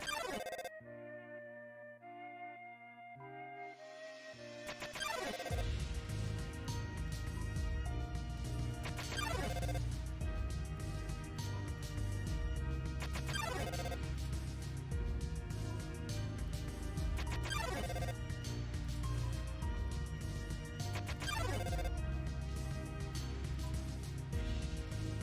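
A phone in Undertale rings on and on without being answered, repeating chime-like tones over a steady musical backdrop after a quieter opening.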